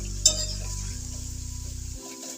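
A spoon stirring turmeric and spices into chicken curry sizzling in a pan, with a sharp clink against the metal at the start, then a steady frying hiss with faint scraping, alone and close.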